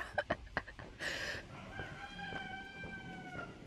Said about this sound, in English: there's a very, very noisy cockerel going off